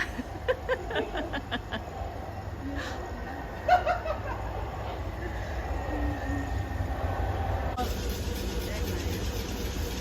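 Low rumbling of a train on rails in London fills the clip, with occasional squeaks and clanks, and people chatting and laughing faintly nearby.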